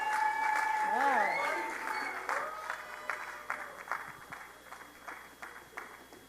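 A panel event audience claps as the panelists come up to the stage, with scattered applause fading over several seconds while someone talks and music plays over the start.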